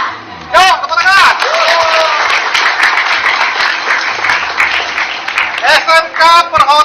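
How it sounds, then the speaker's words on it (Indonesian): An audience claps and cheers at a live stage event, with bursts of applause and crowd noise running beneath loud amplified talking. "Yo, tepuk tangan."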